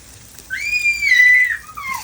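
A baby who is just learning to crawl lets out a loud, squealing shout indoors during a lunchtime cooking session. The shout lasts about a second and is followed by a shorter falling cry.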